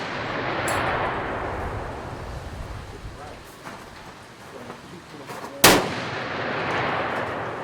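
A single sharp rifle shot cracks out at the Kentucky Challenge shooting match, loud and brief over a wash of steady outdoor wind and background noise.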